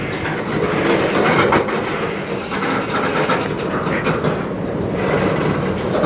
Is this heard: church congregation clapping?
no